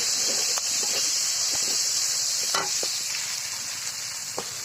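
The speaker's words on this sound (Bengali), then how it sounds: "এখন এই কড়াইয়ের মধ্যে রান্না করব কেটে রাখা পেঁয়াজ আর কাঁচামরিচ দিয়ে সুন্দর মতো ভেজে নেব" Sliced onions and green chillies frying in oil in a wok, a steady loud sizzling hiss throughout with faint stirring scrapes and taps, heard close up and alone.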